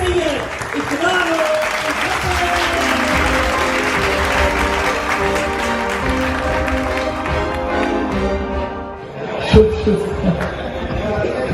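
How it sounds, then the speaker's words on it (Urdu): Audience applause for a standing welcome, a dense, loud crowd clapping that holds steady, with voices and chatter mixed in, then a sharper burst near the end. "بھرپور تالیوں سے کھڑے ہو کے استقبال کیجیے ون اینڈ اونلی سید اقرار"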